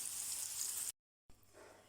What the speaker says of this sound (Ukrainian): будемо обсмажувати м'ясо до золотистого кольору